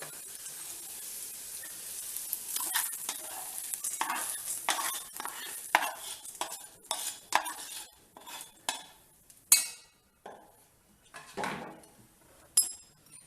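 A spoon stirs rava and vermicelli together for paniyaram batter, making close, uneven scraping and clinking against the bowl that grows sharper and more sporadic toward the end.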